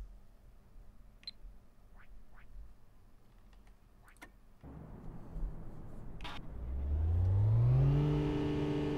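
A car engine in City Car Driving starts up after a few faint clicks, then runs at a rising rev that swells into a steady, louder hum toward the end.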